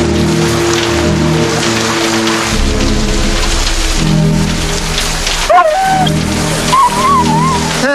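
Steady rain patters on a surface, with a low rumble and some tonal whistling sounds mixed in.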